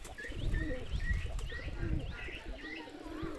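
Pigeons coo in soft repeated calls at moderate distance, with a few chirps and low rumbling handling noise underneath and brief flutters of wings.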